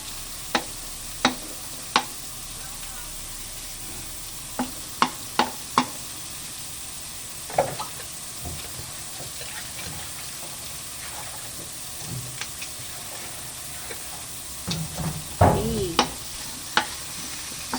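Garlic frying in a pan, a faint steady sizzle broken by sharp scraping clicks of a utensil stirring at irregular intervals, with a busier clatter near the end.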